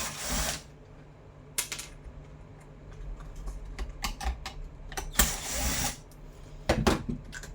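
Screws being removed from the wheel of a Xiaomi Viomi robot mop with an electric screwdriver, several short bursts of whirring separated by quiet handling clicks and rattles, close up.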